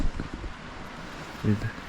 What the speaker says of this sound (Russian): И вот ветер как дует.